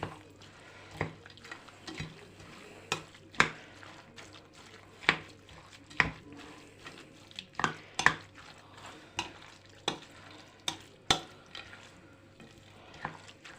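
Kutia being stirred with chopped nuts and raisins for a Christmas Eve dish: repeated scraping, clinking strokes of a spoon against the pot, steady and close, with no talk.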